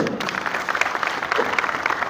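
A crowd at a farmers' mahapanchayat at Zero Point in Greater Noida breaks into brisk, fairly close applause of welcome, steady clapping throughout with faint voices mixed in.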